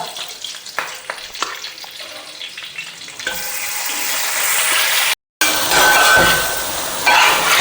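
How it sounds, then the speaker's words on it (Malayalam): Previously cooked meat frying over high heat in a pan: a few clinks and stirring at first, then a loud, dense, steady sizzle that takes over, with one brief dropout. "ഇതിവിടെ കിടന്നൊന്ന് നല്ല തീയിലാണ് വെച്ചിരിക്കണേ. നല്ലോണം ഫ്രൈ ആയി വരട്ടെ."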